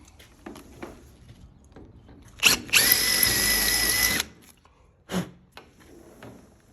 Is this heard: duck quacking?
no